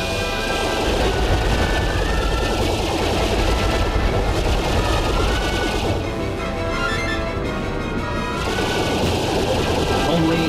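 Dense game gunfire fires continuously while shooting at an incoming missile in Star Fox Assault on the Orbital Gate mission, loud bursts layered over music and engine drone, with a voice talking over it.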